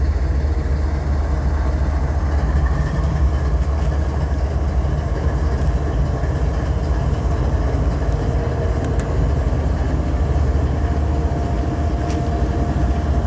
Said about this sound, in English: These locomotives will probably shut off in a little bit when they get the air made up.